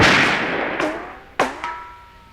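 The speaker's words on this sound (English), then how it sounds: "Simulated gunfire." A lipstick-shaped speaker in a 1989 movie plays simulated gunfire: three sharp, loud bangs with ringing tails spaced over about a second, following a burst of fading noise.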